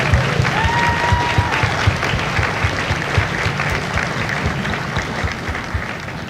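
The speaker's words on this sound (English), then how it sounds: "please join me in a well-deserved round of applause for the drill instructors and families of Alpha Company" A large audience at a Marine Corps recruit depot graduation ceremony in San Diego applauds the drill instructors and families, sustained loud clapping from a big crowd that continues steadily throughout.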